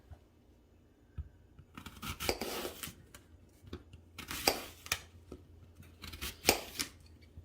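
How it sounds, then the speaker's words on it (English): A knife cuts red and green apples by hand into fine, almost shredded slices on a board. Faint, close, irregular crisp cutting strokes come in short clusters against a quiet background. "we're gonna start by cutting them and then almost finely slicing them so it looks like they've been shredded"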